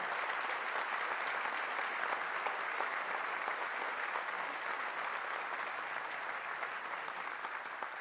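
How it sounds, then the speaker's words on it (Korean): A large audience applauds at a national Police Day commemoration ceremony, sustained, even clapping spread across a big hall, heard faintly and at a distance and lasting the whole stretch without letup. "다시 한번 큰 박수를 부탁드립니다."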